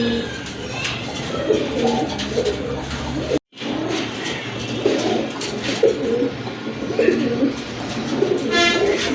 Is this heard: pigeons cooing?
yes